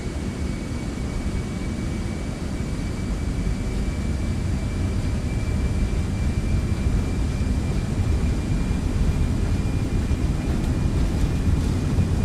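Boeing 757 engines spool at takeoff thrust in the X-Plane 12 flight simulator, a steady loud roar with a thin high whine running beneath it, unbroken and without voices.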